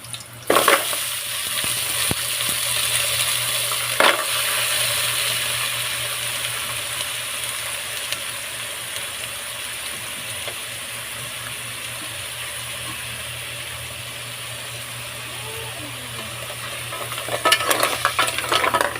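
Clams sautéed with ginger in a pan, a continuous loud sizzle with stirring scrapes throughout and a few sharp clatters at the start and near the end, no talking.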